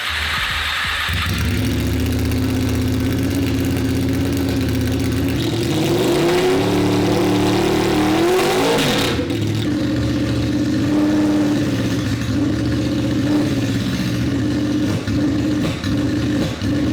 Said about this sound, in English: It honestly sounds like the bike is starving for fuel